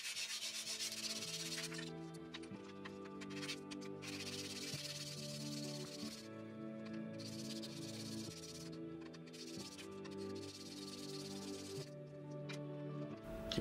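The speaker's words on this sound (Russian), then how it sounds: "Теперь нужно обработать края, убрать заусенцы. Шкурка большая, 400-я." Edges of a laser-cut enamel metal badge sanded by hand with 400-grit sandpaper to remove burrs: soft, steady rubbing strokes run throughout, partly masked by loud background music.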